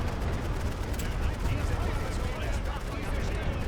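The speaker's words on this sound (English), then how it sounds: "Yeah, it's not too effective, is their artillery fire" Artillery fire in The Great War: Western Front video game, a steady, dense rumble of guns and explosions with no distinct single blasts, continuing throughout at moderate loudness.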